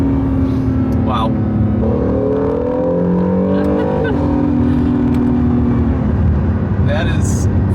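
A Honda NSX engine pulling hard at full throttle on a winding mountain road in Japan, a loud rising engine note that climbs and shifts over several seconds while an excited voice talks over it.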